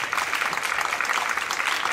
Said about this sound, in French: je crois qu'on peut les applaudir très fort